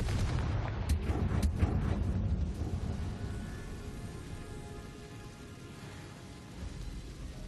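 A deep, rumbling blast from the Confringo fire spell in Hogwarts Legacy, a loud booming burst at the start that slowly fades into a low roar over several seconds.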